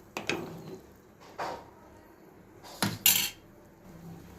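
A metal spoon scrapes and clanks against a pan while stirring a vegetable curry made with leftover roti, a few distinct knocks and scrapes separated by short pauses, close and fairly loud.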